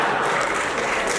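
Audience at a Nepali political speech breaks into steady, dense clapping, a close, even wash of applause that holds through the brief moment with no voices on top.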